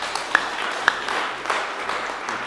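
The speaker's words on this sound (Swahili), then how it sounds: "Kwa hiyo sasa na wale wengine tuwapigie makofi." An audience at a gathering breaks into applause: scattered, fairly faint hand claps with a few sharper individual claps standing out, steady over a couple of seconds.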